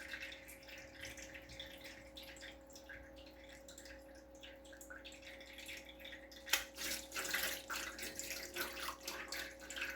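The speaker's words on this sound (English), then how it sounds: "Just trying to cool them down. So I got water in a bowl." Quiet running water from a tap into a bowl, a thin steady trickle that grows louder and splashier partway through, with a faint constant hum beneath.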